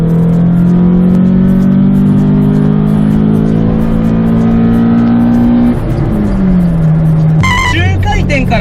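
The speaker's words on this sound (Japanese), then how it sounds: "中回転から高回転の吹き上がりが速くなってます。" A car engine revs freely after an oil filter change, a loud steady drone that climbs slowly in pitch, drops back, then cuts to a brief sharper whir near the end, with no talk over it.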